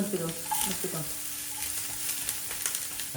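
Onions sizzle in hot oil in a pan while being stirred, a constant close hiss with soft scraping, and a brief bit of voice near the start.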